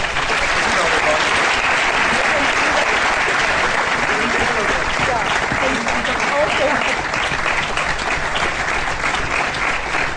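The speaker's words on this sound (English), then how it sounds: "let's have a big round of applause for our panel and for being such a great audience" An audience at a book launch gives a panel a long, full round of applause, thick and continuous clapping at an even level from start to finish.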